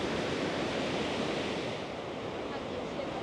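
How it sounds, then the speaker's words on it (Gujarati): Glacier meltwater pours over Athabasca Falls in Jasper, Canada, as a loud, dense, unbroken roar of rushing water that stays steady throughout, close by. "અહીંયા જે બધા ગ્લેશિયરમાંથી વહેતું પાણી છે"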